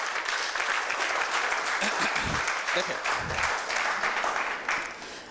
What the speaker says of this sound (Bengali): সবার জন্য একটা হাততালি।